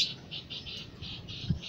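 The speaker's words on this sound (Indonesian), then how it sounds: "ini juga ada yang burung-burung banyak nih" Pet birds in a cage, with young birds among them, chirp in short repeated high calls at a steady rhythm, moderately close, over a low background rumble.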